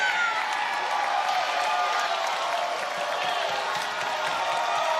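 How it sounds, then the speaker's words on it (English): Wrestling crowd roaring and applauding during a tag match, a dense, loud, continuous wash of cheers and claps that holds steady throughout, with no clear single voice standing out. "You can hear the crowd erupting."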